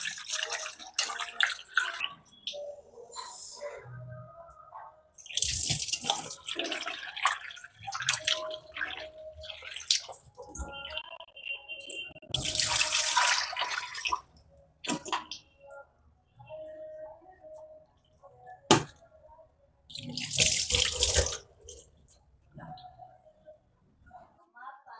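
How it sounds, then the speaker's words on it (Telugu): Raw chicken gets washed under a running tap for manchow soup, with bursts of gushing water and dripping and splashing between spells of a person talking. "ఇప్పుడు ఫస్ట్ చికెన్ని మంచిగా వాష్ చేసుకున్నాం"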